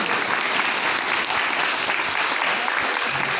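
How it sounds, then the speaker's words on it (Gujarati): A school audience applauds at a ceremony honouring parents of disabled children, with steady, dense clapping that holds loud and unbroken throughout. "આપણે સૌ તાળીઓથી વધાવીએ"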